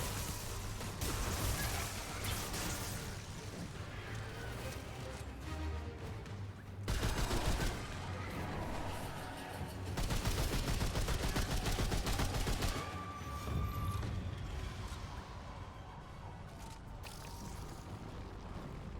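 Gunfire in the video game Remnant, set in Yaesha, comes as dense bursts of rapid shooting that stop and start across the stretch, with a low rumble between volleys.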